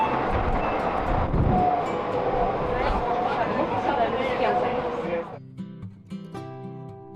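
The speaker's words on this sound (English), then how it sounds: "There are many means of transportation in Dubai, and one of them is monorail." Interior of a Dubai monorail car in motion, with a steady low rumble and rolling rail noise that settles and quiets near the end, while voices murmur underneath.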